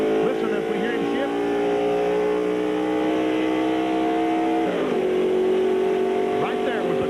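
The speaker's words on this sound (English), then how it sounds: "Once again, we talk about shifting gears. Listen as we hear him shift." A NASCAR Winston Cup race car at Daytona International Speedway in 1995 roars away from the pit, its engine climbing steadily and dropping pitch once as it shifts gear, loud and continuous with crowd and track noise.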